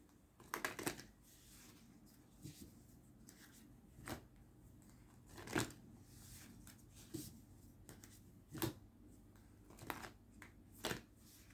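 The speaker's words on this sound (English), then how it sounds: "how many times have I shuffled them cards?" Tarot cards being shuffled by hand indoors, a series of soft papery riffles and slaps at irregular intervals, close but faint, with no talk.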